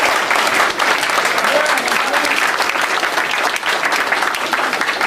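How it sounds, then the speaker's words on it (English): Audience clapping steadily and loudly at a town hall meeting in Queens, dense continuous applause from a packed room with no break, heard alone without talk. "give yourselves a round of applause."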